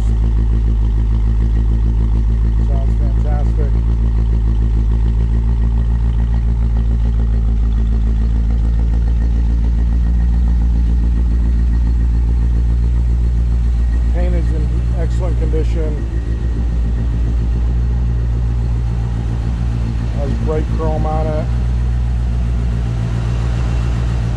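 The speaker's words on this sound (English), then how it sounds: "Here's the cool exhaust." A 1957 Chevrolet 210 two-door sedan idling through its exhaust, a steady low rumble with a few light mechanical clatters, close and loud, with a voice talking over it now and then.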